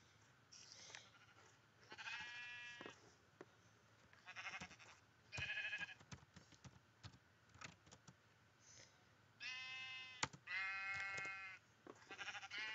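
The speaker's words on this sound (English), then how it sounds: "Brown sheep, black sheep," Sheep bleat in the Minecraft video game, several short wavering cries in separate bursts over a faint background hiss. No one speaks.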